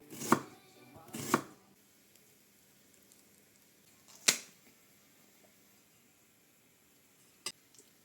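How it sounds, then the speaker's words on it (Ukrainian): A knife chopping onions on a board strikes four separate sharp, close cuts, two early, one midway and one near the end, with near silence between them. "І цибульки ще треба нарізати"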